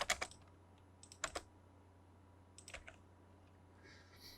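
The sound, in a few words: typing on computer keyboard, pressing enter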